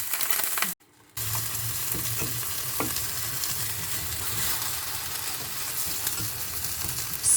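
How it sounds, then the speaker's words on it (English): Aubergine strips fry lightly in a pan with a steady, close sizzle and occasional stirring clicks, broken by a brief pause near the start. "In pan, fry it lightly. Lightly sear the aubergine on the outside until tender."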